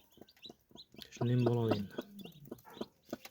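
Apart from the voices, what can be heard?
newly hatched chicks and hen clucking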